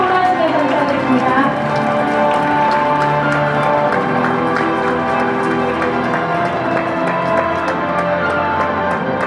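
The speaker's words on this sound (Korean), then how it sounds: "큰 박수 부탁드리겠습니다" Loud, sustained applause from a large audience at a Korean tattoo artists' association awards ceremony and year-end party, dense clapping filling the space throughout with no break.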